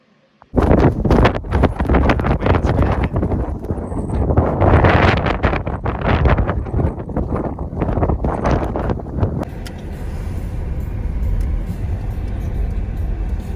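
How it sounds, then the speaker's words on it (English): Strong winter storm wind gusts across a snowy road, roaring and buffeting the microphone loudly and close, then easing to a steadier rushing blow near the end. "So that wind has blown the snow off the top and completely across the road here."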